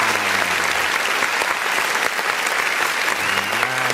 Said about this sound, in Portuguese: recebendo os aplausos do nosso auditório